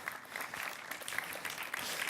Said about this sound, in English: everyone on this side, just make a gentle clapping, please